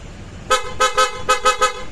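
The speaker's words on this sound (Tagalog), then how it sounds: "Tapos may busina yan," A horn on a Honda X-ADV 750 motorcycle sounds in six short, loud honks in two quick groups of three, each a bright, buzzy toot.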